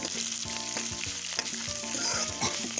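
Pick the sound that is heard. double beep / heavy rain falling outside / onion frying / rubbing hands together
onion frying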